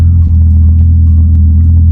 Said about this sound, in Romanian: Mașina este pornită.